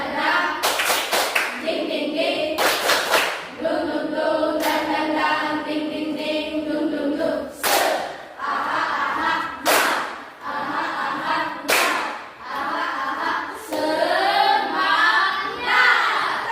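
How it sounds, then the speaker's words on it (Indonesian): A class of students doing a rhythmic spirit clap, bursts of unison clapping and thumps in short patterned groups repeating several times, with a teacher's voice talking between rounds. "Ayo, Asrin. Tepuk semangat."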